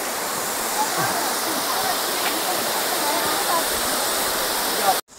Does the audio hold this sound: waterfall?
yes